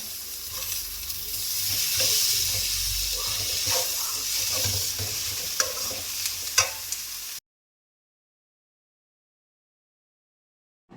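Tomatoes frying in a pan for tuna pasta sizzle steadily up close while a utensil stirs and scrapes with a few clicks, then everything cuts to silence partway through.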